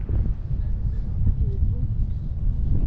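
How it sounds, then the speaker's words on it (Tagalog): Low rumbling wind buffets the microphone steadily throughout near a bridge in Budapest, a dense blustery roar with no other clear sounds. "And malakas ang hangin."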